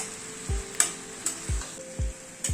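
Pui shak stirred with fish heads in a frying pan for chhyachra, a few quiet spoon scrapes spaced roughly half a second apart over a soft, steady sizzle, with no voices.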